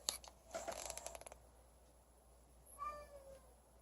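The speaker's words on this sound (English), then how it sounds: "my cat has opened up the door" A pet cat pushes a door open with a short clatter of rattling and scraping, then after a pause lets out one clear, drawn-out meow close to the microphone in a quiet room.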